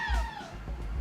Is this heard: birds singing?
no